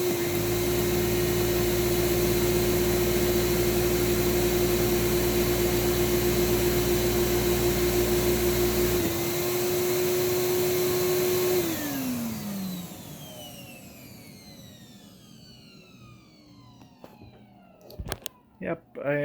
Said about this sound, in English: Then we'll turn the power nozzle on.